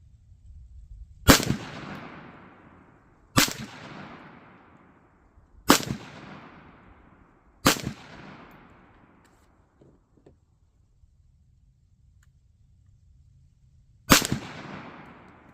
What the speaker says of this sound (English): All right, I'll start with the CCI Maxi Mags first.